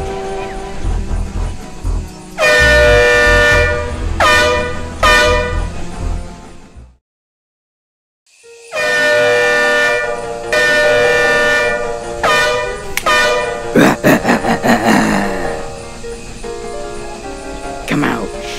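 Loud, blaring train horn blasts in a video game repeat in long bursts, cutting out briefly, then return alongside a rumbling, clattering moving train.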